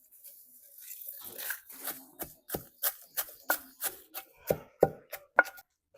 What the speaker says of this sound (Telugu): ఇప్పుడు పొళ్ళన్నీ బాగా దంచేసుకున్నామండి.